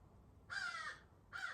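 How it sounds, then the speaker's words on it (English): A crow caws loudly and close by, two harsh calls with a short gap between them, over faint background hiss. "Whoa, that was loud. Hello, Mr. Crow."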